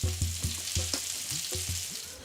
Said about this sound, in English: now all we have to do is fry them up in some vegetable oil